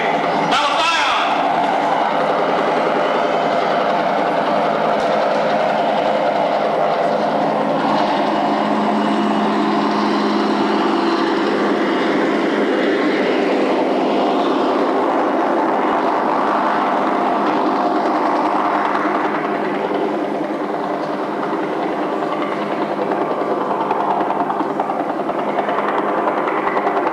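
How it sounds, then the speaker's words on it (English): Helicopters drone loudly and continuously during a 1990 school talent festival, a constant engine and rotor roar that swells and fades slightly, with voices mixed in underneath. "those helicopters, they just really scare you when they do that"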